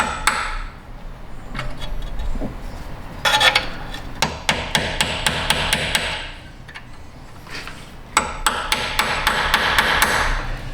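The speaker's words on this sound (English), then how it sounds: "I kind of knock it down, knock the pieces in the hole a little bit." A hammer knocks metal pieces into a hole on the subframe of a 2014 Subaru Outback, sharp ringing metallic strikes in quick clustered runs with short pauses, close and loud with no talk.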